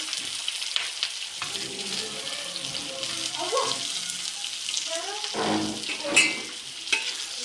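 Onions and green chillies fry in a pan with a constant crackling sizzle up close, broken by a few louder sputters and light stirring scrapes.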